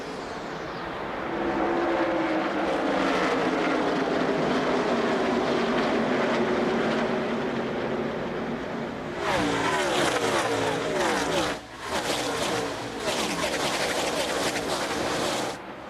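NASCAR stock cars roar at the start of the 2003 Ford 300 at Homestead, a loud sustained pack of engines building in pitch, then cars passing close with sharp surges.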